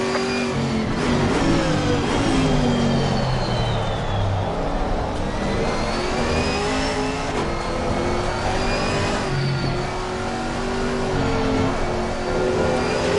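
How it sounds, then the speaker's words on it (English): Race cars in Assetto Corsa Competizione at Misano, engines roaring loud and close with pitch sweeping up and down through gear changes, several cars overlapping as faster ones close in, with no talk over it. "Faster cars approaching."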